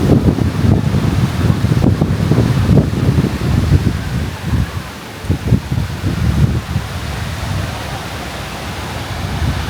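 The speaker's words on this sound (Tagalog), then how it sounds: "Medyo malakas yung hangin ngayon" Strong wind blows across a Boracay beach during the August habagat monsoon, a loud, steady roar of rushing air with gusts buffeting the microphone and no voices.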